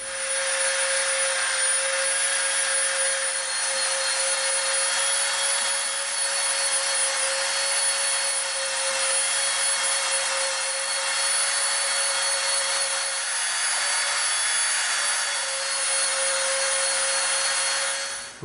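A power tool sanding and rounding off an EVA foam Klingon knife: one continuous loud high-pitched whine with a steady buzzing hiss, unbroken from start to finish.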